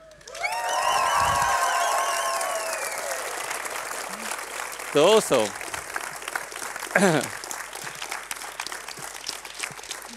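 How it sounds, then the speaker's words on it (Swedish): Audience at the Webbstjärnan 2012 award ceremony cheering and whooping with applause, a loud burst swelling over the first seconds, then fading into scattered shouts while a presenter speaks briefly. "Vi har övat på jubel så vi får höra nu om vi kan jubla lite här."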